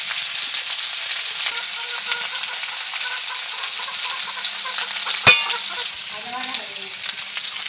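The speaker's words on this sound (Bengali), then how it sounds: "আমি এটাকে একটু ভালো করে ভেজে নেব" Banana and papaya pieces frying in a pan, a continuous bright sizzle with light stirring scrapes and a single sharp clink of the utensil partway through.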